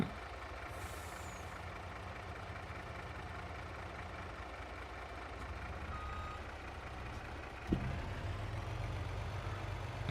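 A delivery truck in a farming video game idles with a low engine drone, its reversing beeps chirping steadily in the background, then a sharp air-brake hiss bursts out near the end before the engine hum grows heavier.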